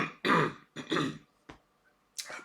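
A person clears their throat and coughs several times close by: two heavy rasping clears, a short sharp cough, and a final breathy burst, separated by silence.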